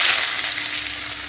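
Chopped onion frying in hot oil with dry red chilli, bay leaf and cumin seeds, a loud steady sizzle that fills the brief moment without any speech.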